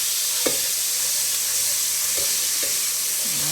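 Crushed garlic frying in a hot pan while being stirred into the mix, a steady loud sizzle with a few soft scraping clicks of the spoon.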